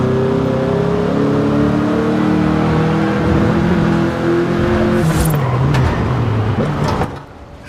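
A Volkswagen Beetle (Vocho) engine in Forza Horizon 5 drones loud and close with a steady buzzing hum that rises in pitch, then cuts off into a quieter tail.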